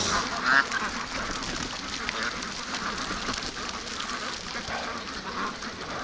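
A flock of free range ducks quacks and honks in cold weather, a broad noisy chorus of close and distant birds with no clear speech.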